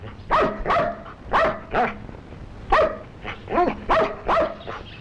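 A dog barks in rapid bursts, about eight sharp, close barks in uneven clusters with short gaps between them, loud and clear with no speech.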